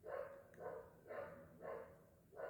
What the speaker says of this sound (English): Can you hear the dogs barking again?